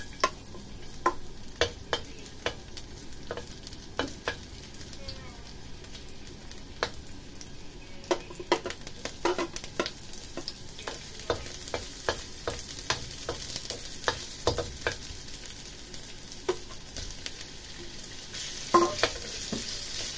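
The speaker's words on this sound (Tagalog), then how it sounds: "So, igigisa na natin yung ating garlic." Garlic sautés in hot oil in a pan with pork, a steady close sizzle broken by frequent sharp clicks and taps of a stirring utensil, with no talking.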